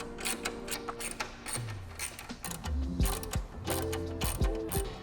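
Repeated ratcheting clicks from a hand ratchet tightening the last nuts on an e-bike rear rack, in close, steady bursts with brief pauses between strokes.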